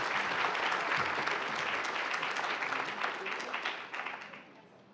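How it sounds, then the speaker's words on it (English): Applause from the audience at an academic awards ceremony fills the hall, a broad steady clapping that thins and fades out over the last second. "can we have a round of applause for him anyway?"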